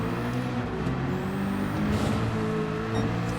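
Racing car engine in Gran Turismo 7 during a World Touring Car 600 race on the Tokyo Expressway, a steady tonal drone held at moderate loudness that shifts pitch slightly, with no talking.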